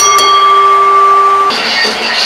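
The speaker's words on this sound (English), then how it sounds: "Ring the bell." A wrestling ring bell at a street fight match rings out loudly in several quick clangs with long sustained metallic overtones, then crowd noise swells up after the match ends.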